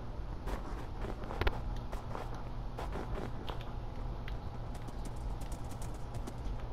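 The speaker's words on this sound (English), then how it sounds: "I swore I rode a horse over here." Blocky horse hooves clip-clop in Minecraft, a steady run of short, light taps at close range, alone over a soft hiss of game ambience with no talk.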